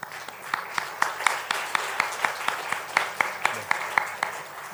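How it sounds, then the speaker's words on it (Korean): Church congregation applauding to welcome a visiting guest during a Sunday service, a steady run of sharp claps from a moderately sized crowd, evenly spaced and sustained without talk. "최하늘 박수로 환영하겠습니다."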